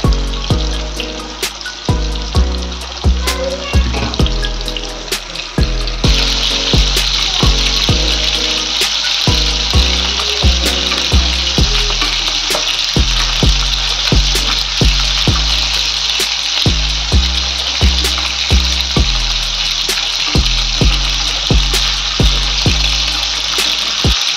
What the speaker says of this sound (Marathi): हे बघा, मस्तपैकी आपली फिश फ्राय होते.